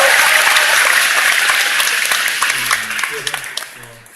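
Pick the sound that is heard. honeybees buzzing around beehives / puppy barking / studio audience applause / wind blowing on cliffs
studio audience applause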